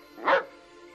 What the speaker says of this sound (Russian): Эй, пес, мы пытаемся спать.